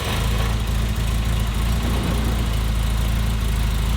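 A 1963 Mini Cooper with its 997 engine idles loudly and close by, a steady low throbbing hum with fine, even pulsing and no voices over it.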